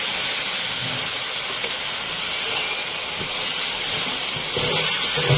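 Fried chicken pieces hit a hot pan of spiced masala in a ginger chicken dish, setting off a loud, steady, hissing sizzle that carries on without a break.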